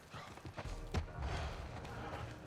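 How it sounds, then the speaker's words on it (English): Horses in The Last of Us clop outside, a faint scatter of hoof thuds with one sharper knock, muffled and distant beneath a quiet ambient bed. "Hear the horses outside?"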